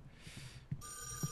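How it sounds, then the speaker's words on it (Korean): A telephone rings in an abandoned building, a faint electronic tone starting partway through with soft ambient noise and light knocks. "전화부터 받자."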